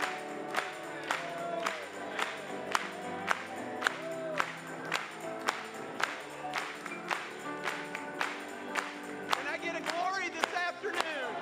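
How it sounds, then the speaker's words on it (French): Church congregation clapping along in a steady rhythmic beat over sung worship music, the claps sharp and evenly spaced, growing into a denser swell near the end. "Acclamons pour lui."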